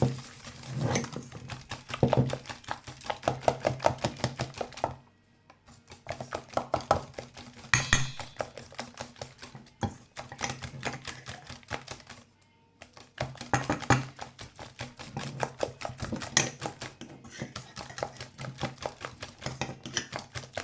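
Chocolate cake batter, made without baking powder, being stirred in a bowl by hand, a steady run of rhythmic clicking and scraping strokes with two brief pauses, close and moderately loud with no talking.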